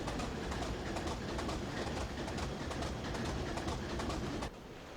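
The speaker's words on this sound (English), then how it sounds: "Some sort of train." Train running on the Buchan Line from Aberdeen to Peterhead in Train Simulator Classic, a steady loud broadband rumble with rhythmic clatter throughout, dropping slightly in level near the end.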